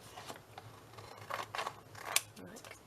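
Scissors snip through plastic packaging tape stuck down for a homemade stencil, a few soft close cuts spread across a quiet indoor stretch, one sharper crisp snip near the end.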